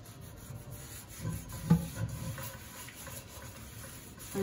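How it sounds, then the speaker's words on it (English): Salt scrubbed around a cast iron pan, a dry gritty rasping that comes in irregular strokes, fairly quiet and close, with a brief sharper scrape partway through. "It's basically just exfoliating your pan."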